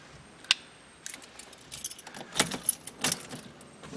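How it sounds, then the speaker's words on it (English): Car keys jangle in short bright bursts near a Chevy Sonic, a sharp shake near the start and then several rattling clusters spread through the rest of the moment, close and moderately loud. "Get our keys."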